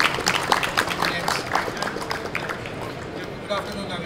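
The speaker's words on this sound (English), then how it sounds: "Please give him a big round of applause." Audience applause fills a conference hall at a technology showcase, a dense wash of many hands clapping that starts strong and gradually thins out over a few seconds.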